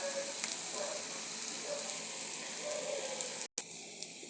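Paniyaram batter fries in a paniyaram pan with a steady, close sizzle and hiss that continues evenly, briefly cutting out near the end.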